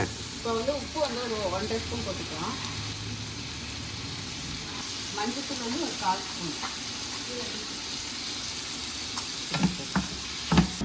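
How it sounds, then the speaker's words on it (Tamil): Tomatoes sautéing in a pan, a steady sizzling hiss with occasional stirring knocks near the end, while people talk over it in the first half. "தக்காளி பாருங்க நல்லா வதங்கிடுச்சு"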